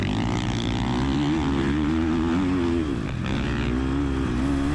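Yamaha YZ 450 motocross bike racing in an MXGP event, engine loud and close with a continuous revving drone that rises and falls in pitch as the rider works the throttle, no talking.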